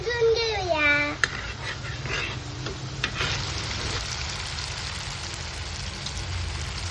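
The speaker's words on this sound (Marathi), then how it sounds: "गॅसवर शिजवून घेऊया." Kalwa oysters with raw mango cooking in a pan on a gas stove, giving a steady loud sizzle and hiss that starts behind a burst of tonal music and then carries on alone, close and continuous.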